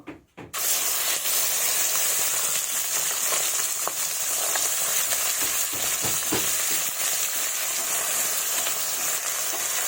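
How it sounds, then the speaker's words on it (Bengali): Fish coated in spices drops into hot mustard oil in a wok and sets off a loud, continuous sizzle that holds steady and close from start to finish. "সব মাছ আমি দিয়ে দিয়েছি, এইভাবেই মাছগুলো আমি ভেজে নেব"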